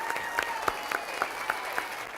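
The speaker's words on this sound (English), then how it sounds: "Give them a huge round of applause" Applause from a live TV studio audience during a 70s-themed show, a thin, steady patter of hands with a few sharper claps standing out, heard fairly close and without talk.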